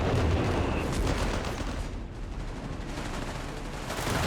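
Heavy suppressive gunfire and artillery from a Company of Heroes 3 battle roar continuously and loudly, a dense wall of shots and blasts with no pauses.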